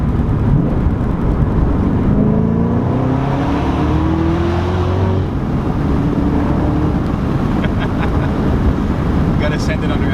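A 2019 Camaro ZL1 1LE with its 650 hp engine pulls hard in a loud, continuous roar, the pitch climbing through the gears, with road and wind noise filling the cabin throughout.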